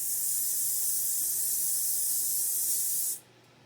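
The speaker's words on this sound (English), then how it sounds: "you can use olive oil spray, cooking spray, or whatever. And I'm going to spray these." Cooking oil spray misted over onion rings before air frying: one steady, close, loud hiss lasting about three seconds before cutting off abruptly.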